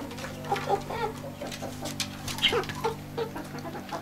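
Chickens and roosters of a bearded mixed breed cluck and call in short, scattered bursts at close range over a steady low hum, with occasional louder squawks.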